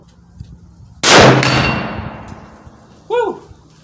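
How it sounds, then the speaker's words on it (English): A single loud, close shot from a Ruger American Go Wild .308 rifle firing 180-grain ammunition, with a sharp crack and a long rolling decay, followed about two seconds later by a brief ringing clang. "Okay, first shot at left low target."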